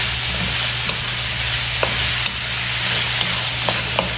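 Ripe tomatoes sauté in a frying pan with a loud, steady sizzle, while a spatula scrapes and taps the pan every second or so.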